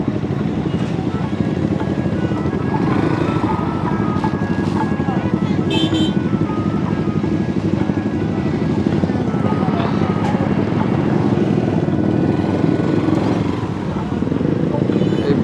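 A group of about sixteen motorbikes riding together through a busy market, their engines a continuous close drone with a fluttering rumble throughout, as voices talk over it.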